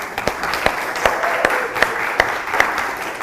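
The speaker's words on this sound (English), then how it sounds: "a round of applause for everyone here" A small group in a classroom claps, loose clapping with distinct individual hand claps standing out, steady and fairly close for a few seconds.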